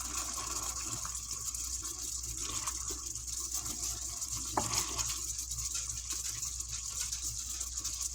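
Salisbury steak patties fry in a skillet set to 400, giving a steady broadband sizzle throughout with a few soft scrapes and one brief clank partway through, close and alone with no talking.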